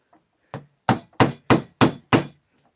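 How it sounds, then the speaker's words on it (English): A mallet strikes a chisel cutting wood for a three-way table joint, six sharp, evenly spaced blows ringing out loud and close. "I'm chiseling."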